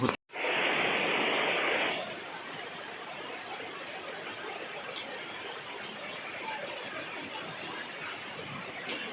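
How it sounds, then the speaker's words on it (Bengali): Heavy rain falls steadily in a constant wash of noise, louder and brighter for the first two seconds before settling into an even downpour. "ভীষণ বৃষ্টি হচ্ছে"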